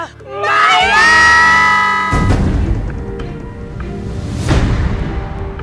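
A crowd of people shouts together in one loud burst on a count, voices swelling into a sustained cheer-like roar, then breaking into scattered shouting and commotion with a second surge later.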